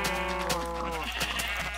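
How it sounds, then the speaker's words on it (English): Sheep bleat in a farming video game, a steady, close, layered chorus of overlapping nasal cries with wavering pitch running throughout, loud and continuous with no talking. "I really do think I have too many sheep right now"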